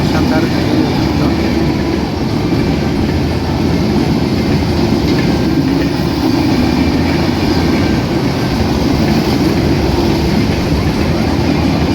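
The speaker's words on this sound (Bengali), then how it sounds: "ঢাকাগামী 794 down Panchagarh express Akkelpur railway স্টেশনে 2 নম্বর লাইন দিয়ে ফুল পাস করে চলে যাচ্ছে ঢাকা অভিমুখে।" The Panchagarh Express, hauled by a 63-38 series locomotive, passes through Akkelpur railway station on line 2 without stopping, a steady loud rumble and rail clatter throughout.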